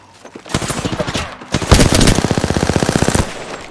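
Automatic gunfire in the video game Apex Legends: two loud, rapid bursts. A short volley is followed by a longer, evenly paced stream of shots, with nothing else over it.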